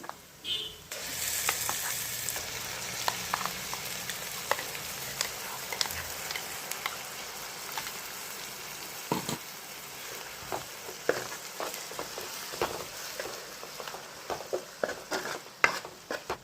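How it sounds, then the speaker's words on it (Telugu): Ginger-garlic paste with ground tomato and onion fries in oil, a soft continuous sizzle punctuated by frequent sharp spatters and occasional stirring scrapes, close by. "ఇది పచ్చివాసన పోయేదాకా వేయించుకోవాలండి కొంచెం ఇప్పుడు ఈ నూనెలో ఆగాలి"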